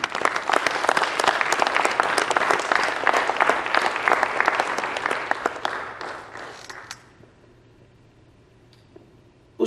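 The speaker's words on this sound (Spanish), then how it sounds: "¿Por qué no le dan un aplauso al Señor?" A church congregation applauds together in a sanctuary, loud dense clapping that holds steady for several seconds, then fades into a quiet room.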